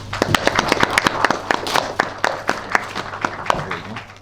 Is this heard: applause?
yes